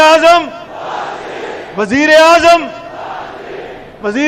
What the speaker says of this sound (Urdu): شرکا سے وزیر اعظم نواز شریف کے نعرے بھی لگوائے